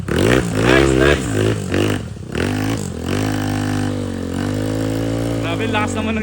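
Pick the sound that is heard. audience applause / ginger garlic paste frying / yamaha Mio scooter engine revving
yamaha Mio scooter engine revving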